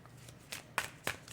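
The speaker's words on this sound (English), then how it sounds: "Let's get 3 cards," Tarot cards are drawn from a deck in a quiet room: four soft, brief papery swipes and slides in an uneven rhythm, close by and faint.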